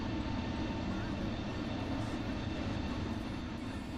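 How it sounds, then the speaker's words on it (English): Steady, broadband roar of an airplane engine in Microsoft Flight Simulator, an airliner on the A32NX, a constant loud wash with no breaks throughout. "I think that's my plane."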